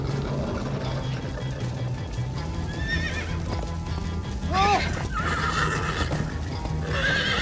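Horses whinny and neigh several times over a busy Minecraft: Story Mode game soundscape with clip-clopping hooves and voices talking.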